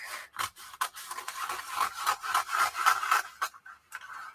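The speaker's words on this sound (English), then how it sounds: "I want to cut up the fabric." Scissors snip and rasp through fabric in a quick run of close, crisp cuts, the blades scraping with a brief pause between strokes.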